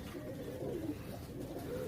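Pigeons coo softly nearby, a few low, rolling throaty calls.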